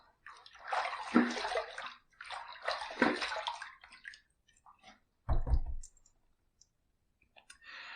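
Water splashing in bursts as a face or razor is rinsed after a shaving pass, close and fairly quiet, with a few separate runs and sloshes and clicks between them.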